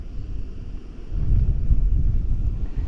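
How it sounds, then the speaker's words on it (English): Steady wind blows across a beach campsite on a breezy September day, a low rushing roar that swells louder after the first second and stays constant, with no voices. "Still breezy, but the sun's come out."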